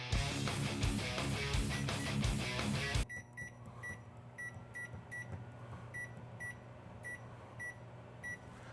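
A microwave oven has its plus-30 button pressed repeatedly: a steady run of short, evenly spaced beeps over the low hum of the running oven, after a few seconds of loud music.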